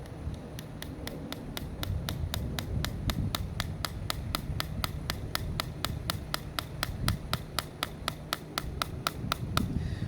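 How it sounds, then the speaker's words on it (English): Steady, evenly spaced sharp metallic taps of a hammer striking a chisel into soft gypsum rock at a dinosaur dig site, close and regular, over a low rumbling background. "This gypsum's actually pretty soft, and this chisel, this hammer's no problem, will"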